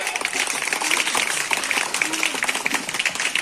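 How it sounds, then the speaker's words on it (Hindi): Applause for a teacher at a Teachers' Day school event: brisk, uneven clapping from a group, moderately close, with voices mixed in underneath. "मैम के लिए ताली होना चाहिए।"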